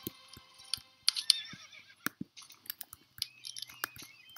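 Horse in the Star Stable video game neighing and snorting amid short crunchy chewing and soft clip-clop hits, a series of close, sharp bursts with no talk.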